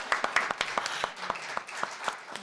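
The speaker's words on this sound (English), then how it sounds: "she deserves our big round of applause" A small conference audience applauds after an international conference session, with sparse, separate claps over a soft clapping background, fairly quiet and brief.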